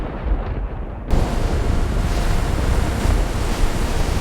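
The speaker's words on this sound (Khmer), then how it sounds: "ព្រះអង្គម្ចាស់ឯងសូមឲ្យរលកនិងខ្យល់ស្ងប់ស្ងាត់ផង" Storm waves and wind at sea in an animated scene of a fishing boat on a lake, a dense roaring wash of surf and gusting wind that swells louder after the first second and stays steady, with no talking.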